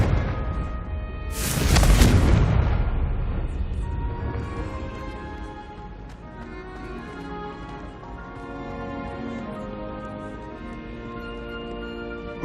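A Confringo fire spell explodes in the Hogwarts Legacy video game, a loud broadband blast near the start that rings out and decays into a sustained musical game score.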